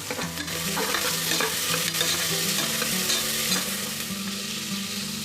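Chicken fries with onions and tomato in a pan, a steady, close sizzle broken by brisk stirring and scraping, heard alone without voices.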